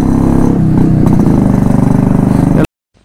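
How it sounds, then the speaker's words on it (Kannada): Loud motorcycle engine rumble, likely a Yezdi Roadking, close by and droning steadily as bikes ride past, with clattering mechanical texture before cutting off abruptly near the end. "ಬೈಕಲ್ಲಿ ಹೋಗ್ತಾ ಇದ್ದಾವೆ"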